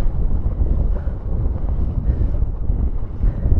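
Strong wind roars across the microphone on open water during a wing foil session, a dense, steady low rushing with gusty swells and no talking.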